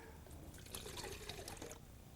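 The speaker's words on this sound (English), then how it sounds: "I'm going to take some of the water out of this gun" Water being poured out of a paint spray gun cup used for car painting, a faint trickling and splashing with soft dribbles, quiet and close, with low background noise.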